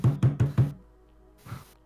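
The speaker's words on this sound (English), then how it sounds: "listen to me clap my table." Four quick, hollow hand slaps on a tabletop in steady rhythm, followed by a softer fifth thump after a short pause.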